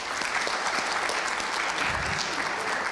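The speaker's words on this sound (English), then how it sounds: "a real big round of applause to Professor Naban" An audience at a conference session on user-generated content gives Professor Naban a sustained round of applause, a thick even wash of many hands clapping with no break.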